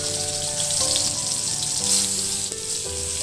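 Oil heating in a pan before chicken goes in to pan-fry, a steady close hiss and crackle of sizzling fat running throughout, alone with no talk.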